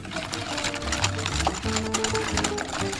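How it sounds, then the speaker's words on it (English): Eggs, sugar and cinnamon whisked in a bowl for French toast, a steady rapid clicking and scraping that runs continuously at close range with no talking. "and then we're just gonna whisk this."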